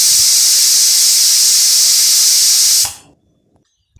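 A pressure cooker's whistle hisses out steam in a loud, steady, high-pitched blast while pet food for dogs and cats cooks at home, then cuts off abruptly into near silence.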